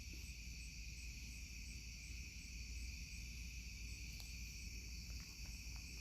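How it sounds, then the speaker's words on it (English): Crickets chirping outdoors on an evening, a steady high-pitched trill that carries on unbroken and fairly faint, with a low background hum and no talking. "enjoy the nice evening sounds of crickets"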